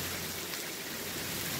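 Rain falls steadily outdoors as a dense, even hiss that fills the moment with no pauses, close and moderately loud, with no voices.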